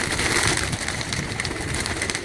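Pigeons on a rooftop loft in Kasur, cooing in a dense, continuous chorus with a broad outdoor noise bed, steady and fairly loud with no talk.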